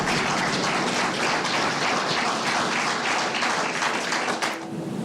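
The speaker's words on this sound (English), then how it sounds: "The applause that happened" Sustained applause from a crowd fills a courtroom after life sentences are read, dense clapping continuing steadily for several seconds before tapering slightly at the end.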